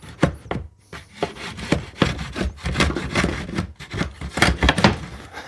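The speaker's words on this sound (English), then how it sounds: "Let's see if this planer works." A planer runs over a pallet wood table in short, loud, close bursts of rough scraping and shaving strokes, repeated in an uneven rhythm with brief pauses between them.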